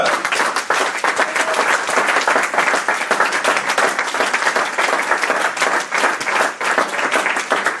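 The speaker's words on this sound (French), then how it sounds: "Acclamons pour Jésus-Christ." A church congregation applauds loudly during a Sunday service, a dense, even roar of many hands clapping together that continues steadily throughout at close range, with no speech over it.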